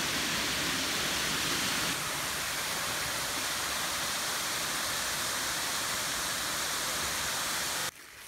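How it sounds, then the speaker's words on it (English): The Gristmill waterfalls roar steadily, a dense, hissing rush of falling water that stays loud and unbroken, dropping off abruptly at the end. "we had to bring Bob down to see the Gristmill waterfalls"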